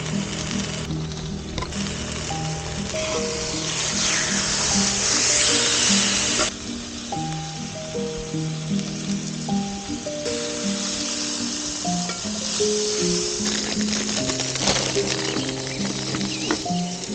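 Food on a portable induction cooker at a car campsite gives a steady soft sizzle and crackle, with faint electronic tones stepping up and down over it.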